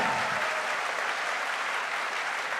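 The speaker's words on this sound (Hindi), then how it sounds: "एक बार जोरदार तालियां होनी चाहिए रूट प्योर के लिए, जोरदार मतलब घनघोर तालियां।" An audience claps at a promotion celebration event, a dense, continuous wash of applause that holds steady for the whole stretch without talk, moderately distant.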